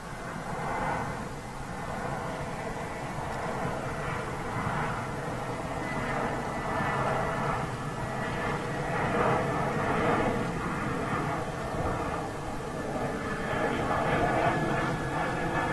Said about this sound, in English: An engine start. Sounds like it